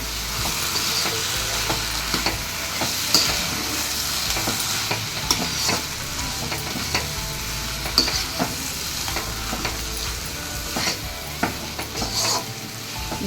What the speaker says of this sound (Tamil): ரெண்டும் ஒன்றா சேர்த்து நல்லா கலக்கணும்